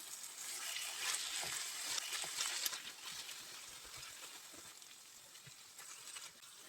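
Wild mushrooms frying in sour cream are stirred in a pan, giving a steady soft sizzle with faint scraping touches, continuous and close, with no talking.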